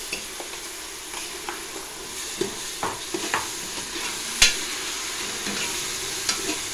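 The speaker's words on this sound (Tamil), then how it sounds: "அரைச்ச வெங்காயம் போட்டுக்கலாம்." Ground onion paste added to green chillies and browned onions in a pan for mutton biryani, sautéing with a low steady sizzle broken by occasional stirring clinks and taps, no voices.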